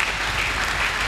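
A church congregation applauds and cheers in acclaim during a sermon, producing a dense, steady wash of clapping that stays loud and even throughout.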